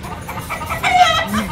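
Ameraucana chickens clucking softly nearby, a few short, low clucks mixed with a brief higher call, heard beneath people talking in the background.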